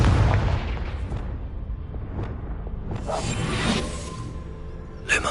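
The Confringo blasting spell in the video game Hogwarts Legacy, a heavy booming explosion that rolls and rumbles out, followed by whooshing bursts and a sharp crack at the end, loud and without talk.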